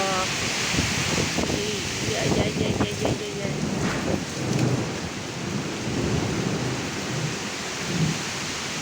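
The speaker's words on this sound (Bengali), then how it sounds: "ঝড় বৃষ্টি" A Kalbaishakhi thunderstorm with heavy rain and thunder, steady loud downpour and rumbling thunder throughout, with wind noise and a voice talking over it.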